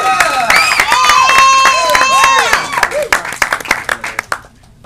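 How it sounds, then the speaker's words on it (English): A comedy club audience claps and cheers as a stand-up comedian is introduced, with a loud whooping voice on top, then the applause thins into scattered separate claps and fades out. "Start clapping right now."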